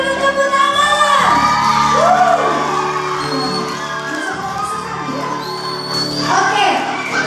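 Loud, excited cheering at a kindergarten competition prize announcement, with children's whoops and high, rising shouts over a lively crowd, voices swelling and falling throughout; clapping is not distinct beneath the yelling.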